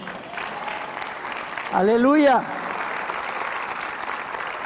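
A church congregation applauds in a sustained, even patter of clapping, and a voice briefly calls out in the middle of it.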